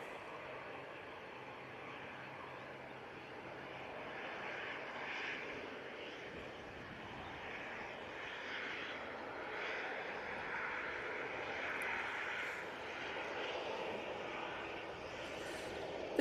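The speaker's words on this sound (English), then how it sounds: "So it's EasyJet coming in from Faro using the 319 for this flight." An EasyJet Airbus A319 landing at Manchester Airport, heard from a distance outdoors as a steady low engine roar and rushing whine that swells gently, faint and continuous with no clear talk over it.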